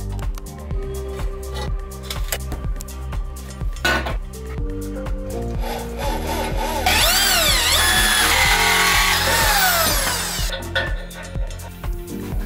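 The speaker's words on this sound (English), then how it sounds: "So now that I got the hole drilled through" A drill bores a 1 inch hole through a steel bar of a Titan T2 power rack for a dip station attachment. Steady metallic clanks build into a loud, rising and falling drill whine before easing off.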